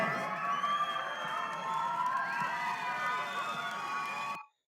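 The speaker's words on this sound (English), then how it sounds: "When you get a crowd like this and everybody starts cheering" A large outdoor crowd cheers and shouts in a loud, sustained roar with high whoops and whistles, and it cuts off abruptly at the end.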